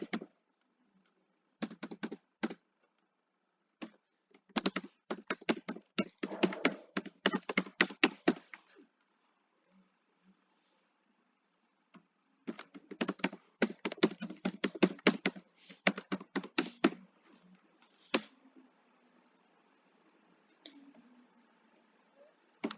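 Fingers clatter on a computer keyboard while an online form is filled in, in two long bursts of rapid, close keystrokes separated by a few seconds of near silence, with no talking.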